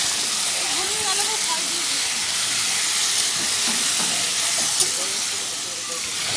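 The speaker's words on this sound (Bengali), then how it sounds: "এখানে আমি শুধু ঢেলে দিয়ে কষে নেব। দেখুন, ভালো করে নেড়ে চেড়ে নিচ্ছি।" Spiced chicken coated in salt, turmeric and oil sizzles steadily in a pan while being stirred, a dense continuous frying hiss with faint scraping throughout.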